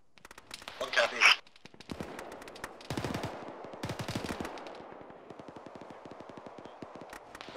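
Bursts of automatic gunfire and single shots crackle through a firefight in the military video game Arma, loud up front then continuing as rapid repeated rounds, with voices talking over the shooting.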